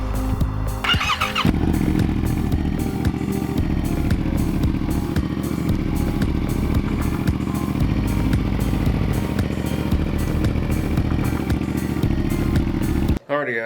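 A Yamaha MT-07 motorcycle runs steadily nearby after a brief start, a loud continuous engine drone lasting the whole stretch, with an excited voice now and then over it.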